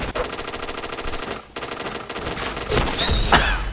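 Rapid gunfire from Point Blank, an online shooter game, loud and continuous in dense automatic bursts with a short pause near the middle, no voices.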